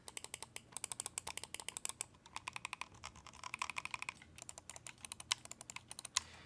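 Crisp, close-up clicking from a Vancer Pollux & Castor gaming mouse, quick irregular bursts of light taps with brief pauses, quiet and alone without any voices.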